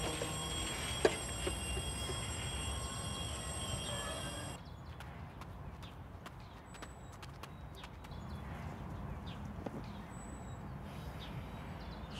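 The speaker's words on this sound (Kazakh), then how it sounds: "Пойыз келе жатыр." A train approaching along the rails in a steady, even rumble, with scattered faint clacks and a high whine at the start, moderately distant and without talk.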